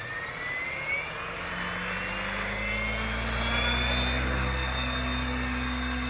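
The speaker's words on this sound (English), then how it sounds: "Okay, so I'm in the hover now, and while I'm in the hover there, I'm leading the helicopter rather than letting the helicopter lead me." A radio-controlled model helicopter spins up and lifts into a hover nearby, its rotor and motor whine holding steady and loud, rising slightly in pitch, with no voices.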